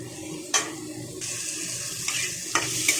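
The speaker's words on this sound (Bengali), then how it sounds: "এরপরে দিয়ে দিলাম আমটাকে দিয়ে একটুখানি আমি মশলার সাথে কষিয়ে নেব।" Mango pieces being fried and stirred with spices in a pan, a steady watery sizzle with a few sharp scraping clicks from the spoon, close and moderately loud, no talking.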